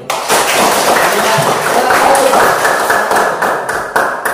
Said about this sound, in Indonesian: Tepuk tangan kalau gitu.